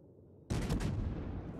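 Gunfire from the destroyer Akatsuki in a naval video game erupts after a short quiet moment as a sudden loud boom, then a rumbling barrage that keeps going and slowly eases, with no voices.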